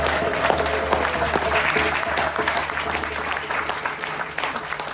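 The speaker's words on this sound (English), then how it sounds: "We give you a round of applause." Audience at a Black History Month playback theatre event applauds steadily, a dense, fairly loud wash of clapping throughout with voices faintly underneath.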